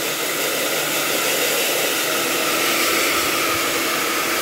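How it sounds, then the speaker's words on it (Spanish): A hair dryer blowing dust out of a Silhouette Cameo cutting machine, a loud, steady, close-up whooshing roar of air that holds constant throughout with no speech. "por un secador de pelo tranquilamente podemos trabajarle eh, y le podemos quitar con, solamente sacudiéndolo un poco"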